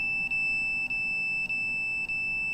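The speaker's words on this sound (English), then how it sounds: "there's the alarm going off as the signals come through the cell phone from the cell tower" A cell phone alarm gives a steady high electronic tone broken by four short, evenly spaced dips, fairly faint, with no voices.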